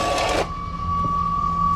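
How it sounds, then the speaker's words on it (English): A steady mechanical hum with a constant whine as an air compressor fills a trailer's air tank, preceded by a short burst of hissing noise at the start. "the hum sound, that's just the air tank filling, supplying air into it right now"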